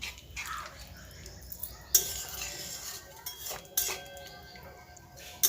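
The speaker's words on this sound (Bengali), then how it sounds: "পরিমাণ মতো জল দিয়ে দেবো। ভালোভাবে নাড়াচাড়া করে" Greens curry (komli shak jhal) being stirred with water in a pan, a spoon scraping and clinking against the metal in a few sharp strikes over a soft, steady background.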